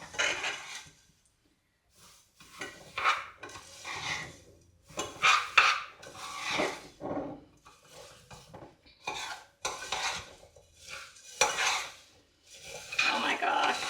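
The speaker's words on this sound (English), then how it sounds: "give that a mix, see what we're working with." Dubai chocolate bar filling is stirred in a bowl, giving repeated scraping, clinking strokes of a utensil against the bowl in uneven bursts with short pauses, close and moderately loud.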